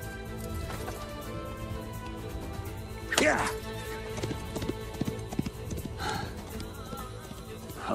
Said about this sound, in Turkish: Ben bu atı istiyorum Noyan'ım.